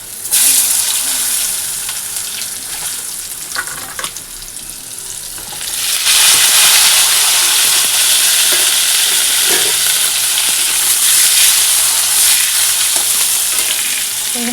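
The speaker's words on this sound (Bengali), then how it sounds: "ওই তেলের মধ্যে ফোড়নি দিয়েছি গোটা গরম মশলা তেজপাতা আর হচ্ছে গোটা জিরা" Whole garam masala, bay leaves and cumin seeds frying in hot oil in a home kitchen: a loud, continuous hiss and sizzle that jumps louder partway through, with no one talking.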